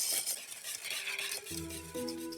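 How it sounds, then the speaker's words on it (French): A spoon stirs thick pastry cream in a pan for an orange-blossom Tropézienne-style dessert, making soft continuous scraping and swishing sounds close up. A steady tonal hum enters partway through. "Remue bien. Vous allez lisser le tout."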